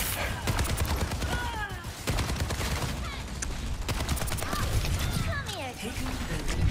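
Rapid bursts of gunfire crackle through a free-for-all video game match, repeated shots layered with a player talking over the action.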